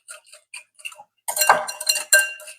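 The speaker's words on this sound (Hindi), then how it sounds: "अच्छा इसे हम अच्छे से मिक्स करेंगे।" A whisk or spoon clinks rhythmically against a bowl while egg is mixed with salt, garlic powder and crushed red chilli, first a few light taps, then faster, louder scraping and clinking strokes.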